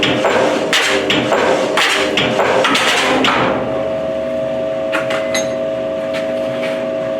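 Repeated hammer blows on metal while working on a sticking clutch, loud and dense at first, then dying away to a steady mechanical hum after a few seconds.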